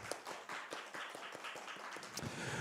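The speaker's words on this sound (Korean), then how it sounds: "우리 하나님께 감사와 영광의 박수로 먼저 올려드리겠습니다" A church congregation claps in worship at the first service in a new sanctuary, a steady run of hand claps close by and fairly faint, filling the whole moment with no voice over it.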